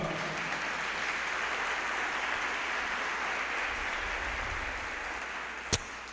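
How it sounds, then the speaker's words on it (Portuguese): A church congregation claps steadily and loudly for several seconds during a worship service, a dense wash of applause with a sharp knock near the end. "Você pode aplaudir o Senhor bem forte?"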